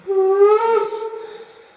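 A short, breathy Märklin gauge 1 model locomotive (55901) whistle blows once, a rising tone held under a second before trailing off quietly.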